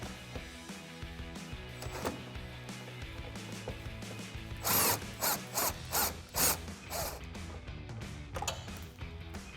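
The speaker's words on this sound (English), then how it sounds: "And I have a 10mm socket on an extension." A 10mm socket on an extension works a headlight bolt between bumper and fender on a 2017-2019 Ford F-250, giving a series of close, loud ratcheting bursts in rapid rhythm amid softer mechanical clicks and handling noise.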